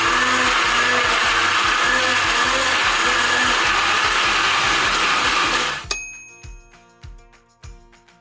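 A 1000W Wonderchef blender and rival blenders run loud and steady, chopping large pieces of fruit and vegetables into a smoothie, then cut off abruptly, leaving a few sharp knocks and rattles as the motor winds down.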